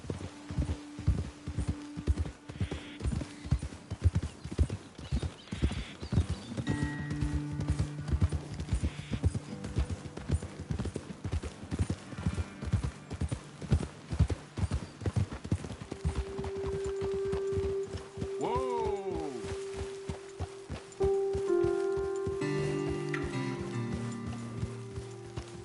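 Horses clip-clopping along a trail in the video game Red Dead Redemption 2, a steady rhythmic run of hoofbeats that slows and fades, with a whinny, music and ambient game sounds layered on top.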